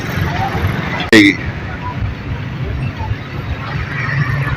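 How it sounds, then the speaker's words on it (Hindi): Congested road traffic during drainage works on Walton Road, with a steady rumble of idling and creeping vehicles, a sudden sharp horn-like burst near the start, and background crowd murmur. "ये देखें ट्रैफिक जैम है।"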